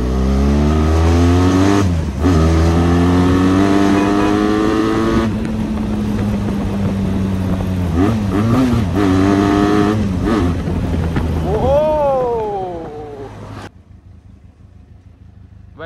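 A Benelli TRK 502X motorcycle revs hard while speeding, its engine climbing in pitch through several gear changes, loud and close over wind noise before easing off and dropping away near the end.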